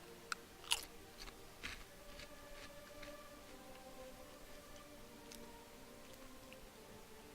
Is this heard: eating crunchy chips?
yes